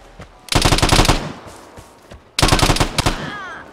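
Automatic gunfire in the video game Vigor: two loud sustained bursts of rapid shots, close and harsh, separated by a short quieter gap with a few isolated shots.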